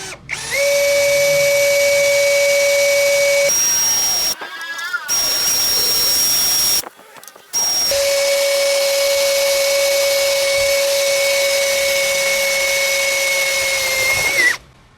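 DongCheng DCJZ2090i cordless impact drill boring into wood at speed setting 1: a steady high motor whine with a strong tonal hum that runs loudly, breaks off briefly twice with a short squeal, then resumes for several seconds before stopping.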